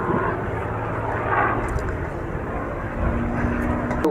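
A Curtiss P-40C Warhawk fighter flying at Duxford, a steady broad engine roar with low droning tones that swells slightly and stays loud throughout, no voices.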